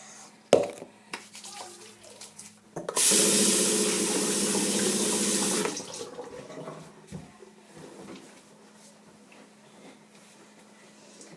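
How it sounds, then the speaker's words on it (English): A faucet gushes loudly for a few seconds amid small clicks and handling noises, then shuts off, leaving quiet rustling and drips. "I then usually go into the bathroom and I wash my hands with some soap and water"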